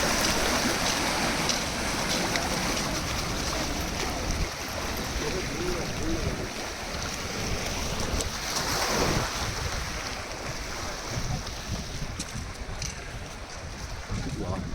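Arabian Sea water around Haji Ali Dargah in Mumbai, a continuous rushing wash of surf with wind noise, loud and steady throughout, with faint voices in the background.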